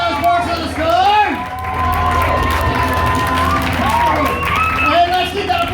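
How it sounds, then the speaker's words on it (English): A poetry slam audience at an arts festival final applauds and cheers, with sustained clapping and whooping voices filling the room loudly throughout. "let's keep that applause rolling"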